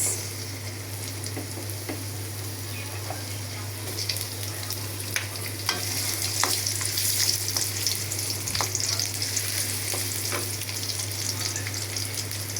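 Onion frying in hot oil in a wok gives a steady, loud sizzle with occasional stirring clicks and scrapes, alone and close.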